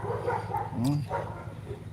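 A guard dog barks a few times at a mini-tractor dealer's yard in Zhytomyr, mid-distance and moderately loud, mixed in with background talk and outdoor noise.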